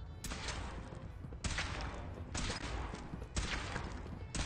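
Gunfire in Fallout 4 while testing a suit, heavy repeated bursts of shots in three or four loud sustained volleys, one after another.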